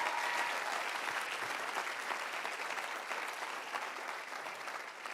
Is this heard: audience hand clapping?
yes